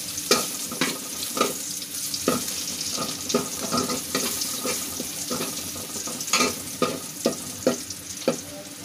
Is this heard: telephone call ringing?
no